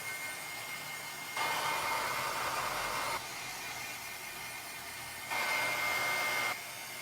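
A heat tool blows in two bursts of steady whooshing air, each lasting over a second, drying acrylic paint and texture paste in an art journal, with quiet pauses between.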